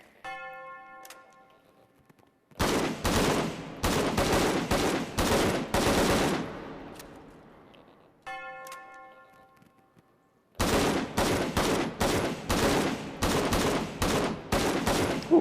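Two loud bursts of rapid AKM rifle fire in a VR video game, each a dense string of sharp shots lasting several seconds, separated by brief quieter pauses with faint tonal ringing.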